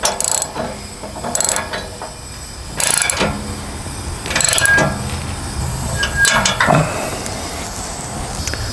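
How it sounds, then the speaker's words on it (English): A socket wrench tightens a nut onto a bolt while a loading ramp is assembled, giving several separate bursts of close ratcheting clicks with short pauses between them. "Then grab your socket wrench and open end and completely tighten."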